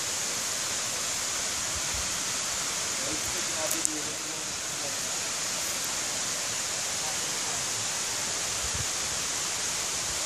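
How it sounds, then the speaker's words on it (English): Water flows in a Dominica jungle as a dense, steady rushing wash that fills the whole clip evenly, close and constant, with faint voices under it. "You know, you can actually hear the water."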